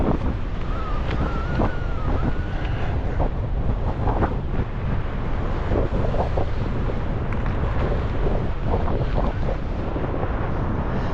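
Strong wind on open high ground above England's deepest lake roars and buffets the microphone continuously, a loud rushing gust with no talking.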